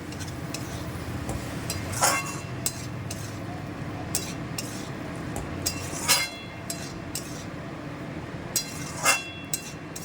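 Small cut potatoes and eggplant being stirred with spices in a pan for a banana-flower ghonto, with intermittent spoon scrapes and clinks against the pan over a steady low sizzle, fairly near.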